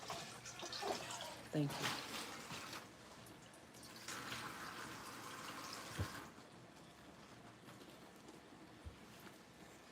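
Tap water runs over gloved hands at a sink during home meat canning, a steady splashing rush that is loudest early on and then eases, with brief speech over it.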